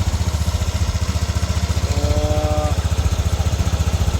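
A Yamaha NMAX scooter engine, freshly repaired after a rattling knock, runs at a steady close idle with an even rhythmic chug and a brief rising tonal whine partway through.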